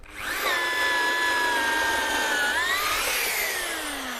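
A rotary hammer drill, drawing about 2.6 kW at its maximum setting, whines loudly at full power, a sustained high-pitched motor drone that shifts pitch slightly before winding down.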